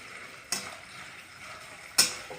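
Onions frying in a pan for an eggplant, potato and pea dish give a faint, steady sizzle, broken by two sharp bursts about a second and a half apart.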